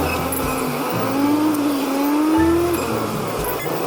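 An auto rickshaw pulls away in moving traffic, its engine droning steadily with a rising, wavering tone close by, surrounded by the hum of other vehicles.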